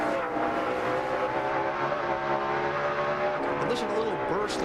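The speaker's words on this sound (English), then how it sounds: "I just love to hear the engine go vroom, then down, and right back up." NASCAR stock car engines at Bristol during the 2004 Sharpie 500, a continuous loud roar of cars circling the track, with pitch drops and rises as the engines rev back up, under people talking.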